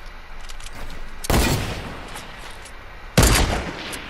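Two loud sniper shots from the video game Fortnite crack out about two seconds apart, each with a short booming tail over a quiet background hum, close and without any speech.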